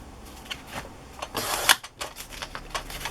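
Wallpaper is cut to size for a handmade envelope, giving faint, short rasping strokes in an irregular run, with one sharper cut near the middle.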